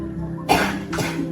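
Two short, close coughs from a sick person, one sharp and one softer, separated by a brief pause.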